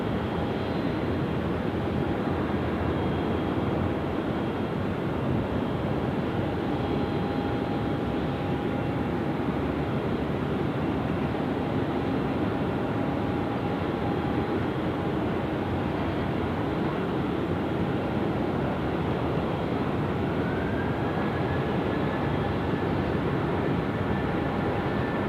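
Boeing 777 on flight CA70 taking off at Sydney Airport, a broad, steady jet engine roar that holds loud and continuous for about 25 seconds, with a faint rising whine near the end.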